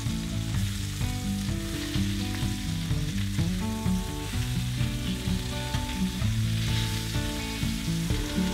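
Food sizzles and fries in a pan on a stove, a steady broadband crackle under continuous tonal music that runs throughout.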